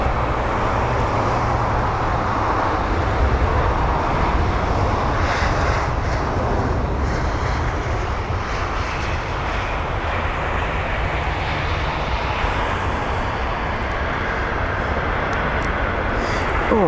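A jet airliner arriving at London Heathrow roars loudly and steadily throughout, a broad continuous engine rumble with no voices.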